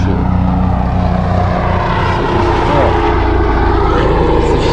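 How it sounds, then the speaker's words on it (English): A helicopter passes above a beach, its rotor and engine roar loud and steady over wind and surf, with someone talking faintly underneath. "Yo, look at the chopper. There's always a chopper out here, bro."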